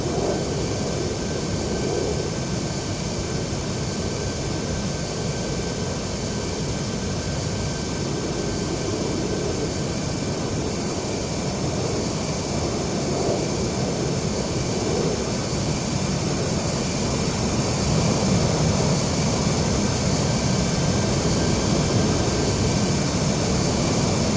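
Jet aircraft engine in the Ace Combat Zero video game: a loud, constant roar with a steady whine that fills the whole stretch without a break.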